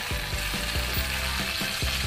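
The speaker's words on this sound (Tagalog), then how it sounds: "dahil mainit o kumukulo na yung ating mantika, ilagay na po natin yung" Steady, loud sizzling of eggplant frying in hot oil, with faint rhythmic scraping or stirring beneath it and no talking.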